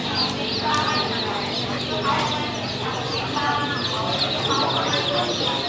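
Chicks and ducklings cluck and peep steadily at a rural open-air market in Bến Tre's Tiên Thủy area, a continuous busy chorus with market voices talking underneath.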